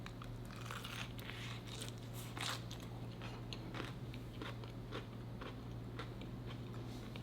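Biting and chewing into a crispy Nashville fried chicken bao bun, close-up crunchy bites and mastication repeating over a steady low hum, no talking.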